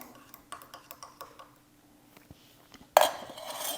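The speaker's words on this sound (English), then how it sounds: "I'm going to just give it a little stir and make sure my flavors are all mixed in." A spoon stirs a latte in a cup, giving a run of light rhythmic clinks against the cup, then a louder burst of noise near the end.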